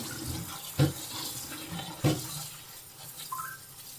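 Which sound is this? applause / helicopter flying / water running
water running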